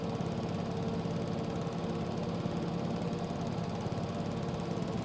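Zero-turn lawn mower engine in Farming Simulator 22, a steady droning rumble running continuously at low volume with no talk.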